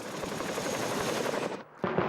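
A military helicopter flies into the remote British outpost of Kajaki in southern Afghanistan, its loud, close rotor chop thudding steadily before briefly dropping out and returning near the end.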